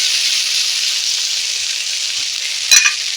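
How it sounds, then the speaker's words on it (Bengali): Okra and potatoes frying in a covered pan give a steady, close sizzle and hiss that holds throughout, with a brief clatter near the end. "একবার দুবার চাপা দিলেই খুব সুন্দরভাবে ভাজাটা হয়ে যাবে"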